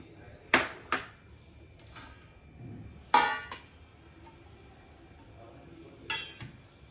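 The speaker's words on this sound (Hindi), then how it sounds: "इसके लिए मैं एक बड़ा बर्तन ले लेती हूँ।" A large kitchen vessel for kneading chhena is picked up and set down, giving several sharp metallic clanks and knocks spread over a few seconds in a quiet room, with soft handling noise between them.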